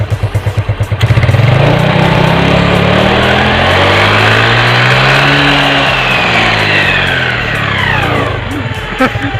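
A Yamaha Mio Sporty scooter fitted with a speed tuner CVT revs hard and close by. The engine pitch climbs, holds a sustained high whine, then winds back down near the end.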